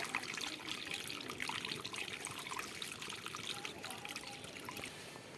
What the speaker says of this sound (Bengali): কড়া বসিয়ে দিয়েছি, এবার আমি জল দিয়ে দেব।